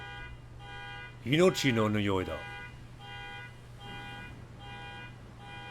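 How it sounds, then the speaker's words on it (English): A car alarm tone repeats steadily in the background outside a window, with a person speaking loudly over it for a moment. "it set off this car alarm that you can probably hear outside my window here"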